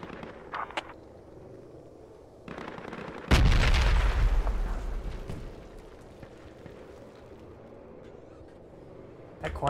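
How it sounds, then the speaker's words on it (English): Grenade blast in the Project Reality military shooter, one heavy booming explosion with a long rumbling tail, preceded and followed by scattered sharp gunshots and a voice over game radio chatter. "They're throwing grenades. Two grenades on the rooftop"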